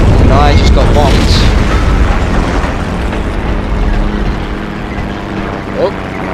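Bomb blast in the WWII shooter Heroes and Generals, a loud, dense rumbling boom that fills the opening seconds and slowly decays into a low roar with battle noise beneath.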